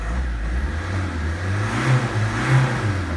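The 1.9 JTD diesel engine of a Fiat Doblo revs up from a steady idle in a close, loud, continuous drone that swells and eases a couple of times, with no talking.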